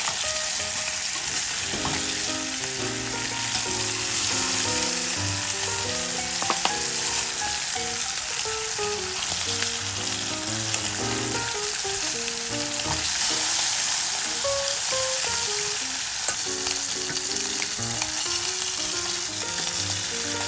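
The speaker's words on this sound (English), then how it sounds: "after each side is seared, well, including the bone, let's do the bone right now" Braised short ribs, bone included, searing in a hot pan with a steady loud sizzle and crackle of frying fat, occasional stirring clinks, no voices.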